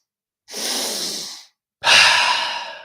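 Two loud, close breaths of intentional hyperventilating breathwork, a rushing inhale followed by a forceful exhale, each lasting about a second and separated by a short pause, with no speech.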